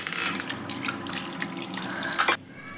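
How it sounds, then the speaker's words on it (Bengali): Tap water runs steadily as food is washed under it in a kitchen sink, a close, continuous splashing gush that cuts off abruptly just before the end. "ধুয়ে পরিষ্কার করে নিচ্ছে এখন।"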